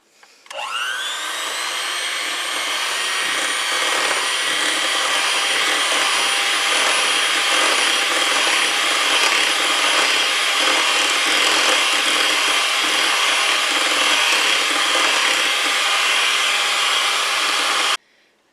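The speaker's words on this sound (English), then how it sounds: "I'm going to mix this, so I might shut you off while I mix it." An electric hand mixer whirs steadily with its beaters in coffee cake batter, starting abruptly, holding a loud, close, even drone for about seventeen seconds, then cutting off.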